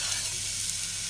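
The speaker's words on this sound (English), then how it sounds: "we're going to start frying the onions" A brief burst of onions frying in hot oil in a pan, a bright crackling hiss close up with nobody talking.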